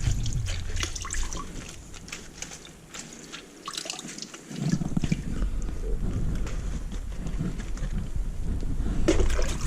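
Water drips and trickles as salted kimchi cabbage is squeezed by hand, close and wet, with the flow swelling louder partway through.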